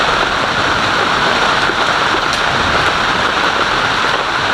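Heavy rain falls during a thunderstorm, a loud, steady, unbroken hiss with no distinct thunderclap and no talk.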